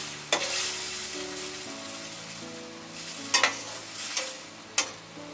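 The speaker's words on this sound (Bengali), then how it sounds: "এখন আমি আরো আধা কাপের মতো পেঁয়াজ দিয়ে দিব" Chopped onions fry in a pan, a soft steady sizzle with several sharp clacks of a spoon striking the pan as they are stirred.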